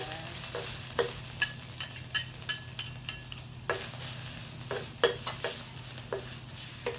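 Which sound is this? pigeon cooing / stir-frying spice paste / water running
stir-frying spice paste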